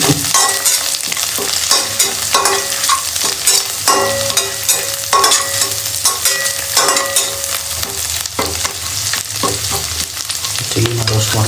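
Chillies roast in a sizzling frying pan while a utensil stirs and scrapes them in a steady, busy rhythm, loud and close, with no talking.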